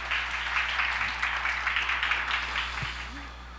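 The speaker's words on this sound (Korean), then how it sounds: "큰 박수로 맞아주십시오." Applause from an audience at a church-hosted forum on childbirth and care, a steady, fairly faint patter of clapping that carries through the whole stretch with a low hum beneath it.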